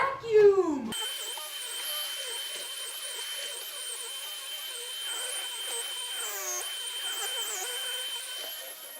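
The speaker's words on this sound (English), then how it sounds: "I'm going to vacuum!" A vacuum cleaner runs in an apartment with a steady high-pitched whine after a brief spoken line, while a voice talks intermittently over the drone.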